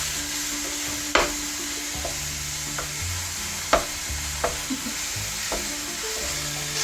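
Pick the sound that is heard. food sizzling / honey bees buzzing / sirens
food sizzling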